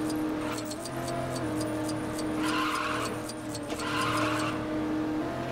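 Race cars skidding in the video game Lego Batman 3, with repeated loud tire squeals in two clear bursts over a steady engine drone, close and with no talking.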